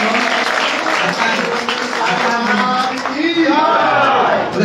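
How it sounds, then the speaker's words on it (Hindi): An audience at a Gaudiya Math temple gathering in Jagannath Puri claps for a newly named acharya; the steady applause runs throughout under raised voices and cheering. "इनके ताली बजा दो।"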